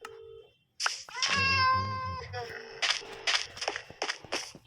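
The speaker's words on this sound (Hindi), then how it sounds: "ये म्याऊं म्याऊं करे जा रहे हैं" Several short, high meows from a cat in Minecraft, some bright and some clipped, with speech in between.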